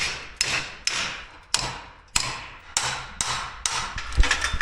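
A hammer taps repeatedly at a stuck car part, about nine sharp metallic blows at a steady, slightly uneven pace. Each strike is close and loud, and the ring dies away quickly.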